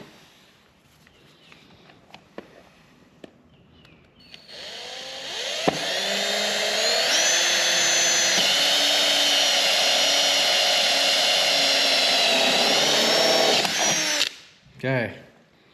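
A power drill reams a one-inch vent hole through a plastic air box on a Suzuki DR-Z, whining steadily and loud for about nine seconds, its pitch dipping and rising under load, after faint handling clicks and before a short final burst.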